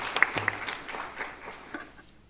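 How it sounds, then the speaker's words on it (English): Applause rises from attendees at a school board of education meeting honoring two scholars, moderate and fairly distant, with a few sharper claps early on before fading out. "So let's give them another round of applause."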